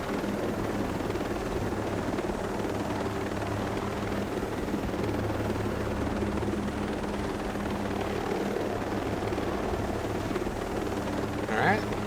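A helicopter in Ghost Recon Breakpoint drones continuously with a steady rotor thrum and engine whine, loud and close throughout as the player flies it.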